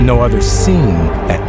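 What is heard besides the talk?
None of the usual background noises is heard.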